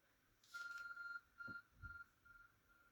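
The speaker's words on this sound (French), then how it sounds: "Il y a quelque chose qui émet du son et de la lumière par là-bas." A smartphone-like device rings in the video game Pokémon Legends Arceus: a faint electronic chime with a sustained tone broken into several short pulses, quiet and alone.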